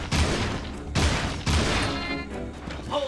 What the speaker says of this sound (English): Now try discharging your weapon